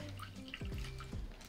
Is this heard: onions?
no